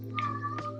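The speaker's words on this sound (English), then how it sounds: "That's my cat." A house cat gives a short, faint meow indoors, a single brief call alone in a quiet room.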